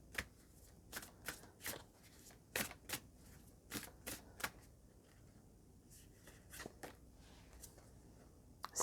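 Tarot cards shuffled in a quiet room: a series of crisp riffling snaps and flutters, some quick, some spaced out, fairly close and fairly soft, with no one talking.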